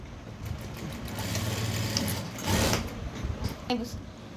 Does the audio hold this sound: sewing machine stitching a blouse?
yes